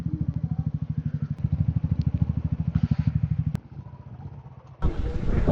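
A motorcycle engine idles with a steady, close putter as the bike is parked at Gurudwara Pathar Sahib on a Ladakh ride, the throbbing pulses running for several seconds before a brief lull and a rougher burst at the end.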